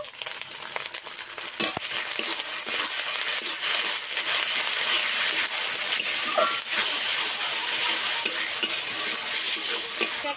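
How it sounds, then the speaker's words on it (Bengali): Onions frying together with ginger and garlic in a pan for a pomfret curry, a steady close sizzle with stirring scrapes running throughout, no talk. "এখন পেঁয়াজ একসঙ্গে কিছুক্ষণ ভেজে নেব।"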